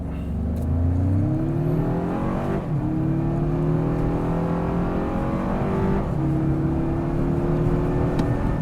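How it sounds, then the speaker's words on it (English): A 2025 Toyota 4Runner Limited in Sport S Plus accelerates hard from 0 to 60, its engine rising steadily in pitch, dropping at two gear shifts and then climbing again, loud and continuous from inside the cabin. "let's see what the 0 to 60 time here is on this 4Runner Limited"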